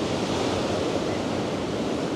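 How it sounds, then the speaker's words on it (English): Rough surf breaks on Swanage beach in Dorset, a loud, close wash of crashing water with steady roaring noise and some wind buffeting the microphone. "Oh, the waves are a bit rough here."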